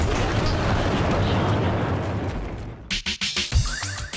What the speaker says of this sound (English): there's like explosions and stuff.